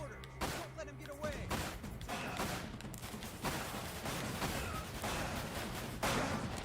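Explosions in a video game boom in rapid succession, loud and dense, forming a near-continuous barrage with bursts of crackling debris; a voice is faintly present underneath.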